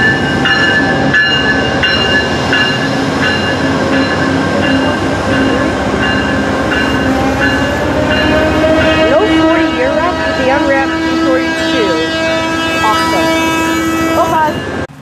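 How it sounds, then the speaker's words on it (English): VIA Rail train 87 hauled by an unwrapped P42DC diesel locomotive passing close by: a loud continuous rolling rumble with steady tonal drone and wheel clatter, voices talking faintly beneath. "And it's an unwrapped P42DC."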